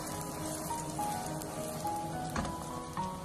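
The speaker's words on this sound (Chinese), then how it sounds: "开小火让它慢慢的煎" An enoki mushroom and egg mixture pan-fries slowly over low heat, giving a faint, steady sizzle with soft crackles and pops across the whole stretch, heard alone without any talking.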